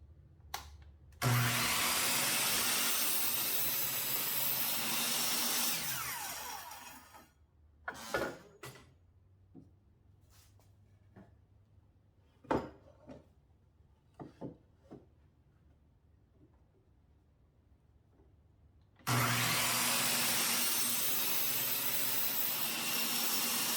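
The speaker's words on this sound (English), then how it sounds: "Next, we're going to cut out the 21-inch stretchers" A power saw cutting 21-inch wooden stretchers for a simple pocket-hole table: a loud sustained whine through the wood, then scattered handling knocks in the quiet, then a second long cut.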